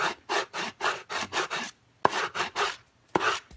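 Rhythmic rasping strokes of a coarse 60-grit sanding mop against carved wood, about a dozen quick back-and-forth rubs in bursts, with a couple of sharp knocks between them.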